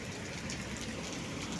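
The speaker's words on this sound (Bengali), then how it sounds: "দেখেন কি পরিমাণ বৃষ্টি হচ্ছে" Heavy rain pours down steadily in a dense, continuous wash of noise with no pauses, close and fairly loud; wind is blowing strongly enough to push a door open.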